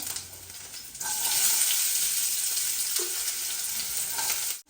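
Onion frying in a pan gives a steady, loud broadband sizzle that swells after the first second and holds without pause, with a soft clink near the middle and no talking.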